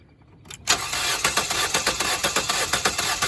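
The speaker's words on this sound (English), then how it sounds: "go ahead and try to crank it one more time" Car engine cranking over on the starter during a compression test on a cylinder with very low compression, a loud close rhythmic churning that begins abruptly after a quiet moment and runs steadily to the end.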